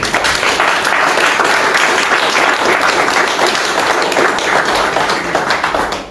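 A church congregation applauds steadily and loudly for several seconds, the claps thick and continuous, with faint voices mixed in.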